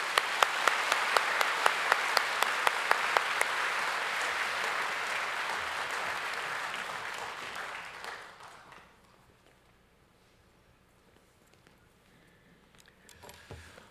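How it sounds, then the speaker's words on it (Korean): A church congregation gives a warm round of applause welcoming a pastor and his wife, dense steady clapping for about eight seconds with a few sharp claps standing out, then fading to quiet room tone. "우리 큰 박수로 환영하고 너무 감사합니다"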